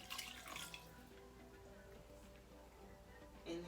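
Water poured into a pot for a Jamaican oxtail stew, a steady splashing stream with a brief louder gush at the start and another near the end.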